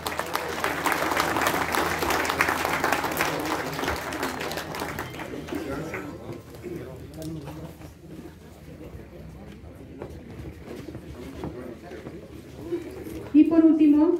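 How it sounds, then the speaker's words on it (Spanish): Audience applause at a ceremony handing out support vouchers and certificates to farmers, a sustained crowd clapping that gradually thins and softens, with a voice speaking over it near the end. "Un aplauso,"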